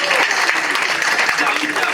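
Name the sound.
audience applause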